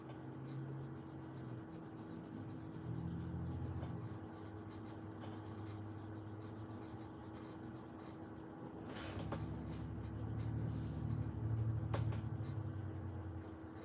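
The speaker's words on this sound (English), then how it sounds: "So I'm going over it again with the pencil." Colored pencil rubbed back and forth over paper while going over a drawing a second time, a soft continuous scratchy scraping that carries on steadily in the near foreground.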